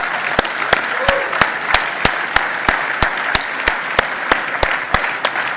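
An audience at a political event applauds a Prime Minister. The clapping is loud and continuous, with sharp regular claps from a single nearby pair of hands standing out over the crowd's steady wash.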